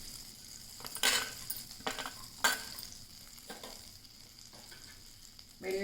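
Finely chopped garlic frying in melted butter for sweet corn soup, a quiet steady sizzle broken by a few sharp scraping stirs of a utensil against the pan.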